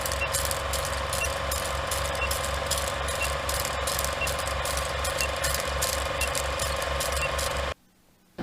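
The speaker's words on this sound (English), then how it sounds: "the sound of the spray and the compressor might be too much." An air compressor used for spray painting fishing jig heads runs steadily and loudly with a rapid mechanical chugging pulse, then cuts off abruptly near the end.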